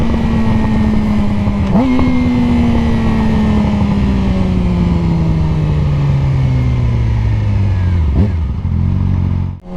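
Yamaha R6 motorcycle engine drones loud and close while riding around a neighborhood, pitch slowly falling with two quick gear-change blips, steady wind roar underneath until it fades at the end.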